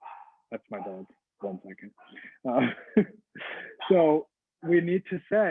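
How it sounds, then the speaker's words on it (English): A pet dog barks and yips in short bursts close by, interleaved with a man's speech during an online talk. "That's my dog."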